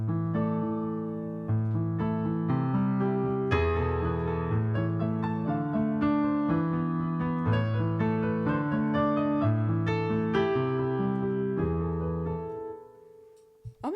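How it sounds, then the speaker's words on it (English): Power Grand tone on a digital keyboard playing a flowing passage of sustained chords and melody, loud and close, fading out near the end. "The standard one on this keyboard, they just call it Power Grand, which sounds like this."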